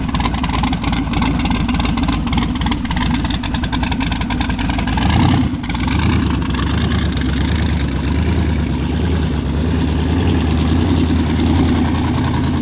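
A 1,000-horsepower car engine runs loud and close, idling with a rough, pulsing lope, then surging in a heavy rev partway through before settling back to a deep, steady drone.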